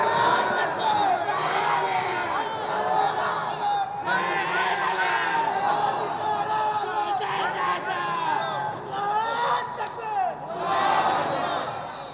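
A large outdoor crowd at a Bangla waz sermon gathering in Rangpur shouting takbir in loud rhythmic waves of massed voices, rising and falling several times with a fresh surge near the end.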